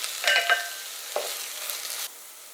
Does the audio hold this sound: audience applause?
no